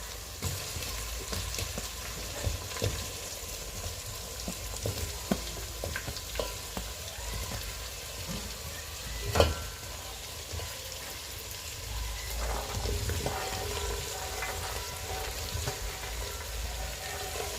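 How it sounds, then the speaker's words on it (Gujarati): Diced potato, capsicum, carrot, peas and cauliflower frying in a pan for veg pulao while being stirred, a steady close sizzle with scattered scrapes and one sharper knock midway. "બધા આપણે વેજીટેબલ નાખી દીધા છે અને બરોબરને એને મિક્સ કરીશું"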